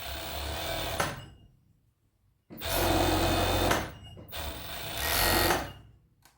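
A sewing machine stitches a raglan sleeve seam in three loud bursts of steady whirring, each separated by a short pause.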